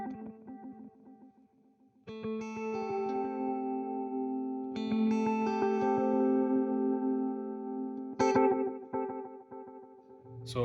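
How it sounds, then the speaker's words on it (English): A guitar runs through a Morley pedal's multi-tap delay, sustained notes ringing and stacking into a shimmering wash of repeats. Fresh notes enter every few seconds, with a brighter attack near the end, all at moderate level with no voices. "Interesting multi-tap sound."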